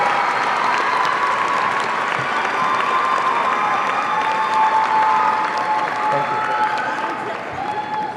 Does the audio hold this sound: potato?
no